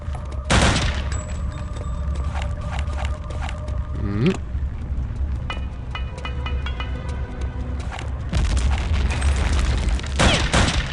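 Repeated booming explosions and bursts of gunfire in Return to Castle Wolfenstein, loud and dense, with a sharp burst near the start and heavier bursts toward the end.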